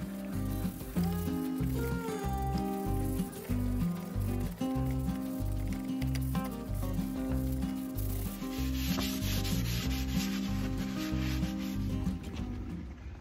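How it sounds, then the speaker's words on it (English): Close, steady sizzling of chicken curry with curry leaves and spices in a hot pan, with scattered little pops and crackles throughout. "I'm going to gently sand back the dark grey paint with a sanding sponge"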